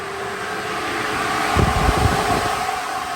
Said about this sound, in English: by turning the ignition on without even starting the car, we should hear the fans kick in.